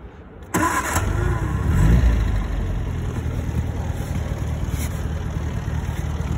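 1951 MG TD engine cranking and catching after a quiet moment, then swelling briefly before settling into a steady, close idle rumble that continues evenly to the end.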